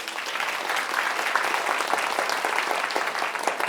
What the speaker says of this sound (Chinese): 对，给他鼓掌。